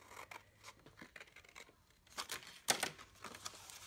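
Scissors cutting across folded paper to make a partial score line for a flip box, a few short close snips and crinkles, quiet and alone.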